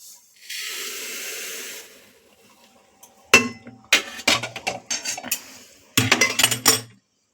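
Fried mung dal is scraped from a pan into a pressure cooker. A soft sizzling hiss comes first, then after a pause come close, sharp metal clinks and scrapes in irregular bursts.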